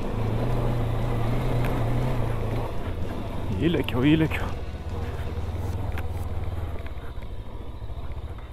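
A JAWA RVM 500 Adventure motorcycle runs on a sandy trail, its engine giving a steady low drone that dips and picks up again, while a rider talks briefly over it.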